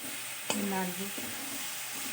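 Coconut and jaggery stirred in a pan for nadu sweets, a short scrape at the start over a soft steady sizzle.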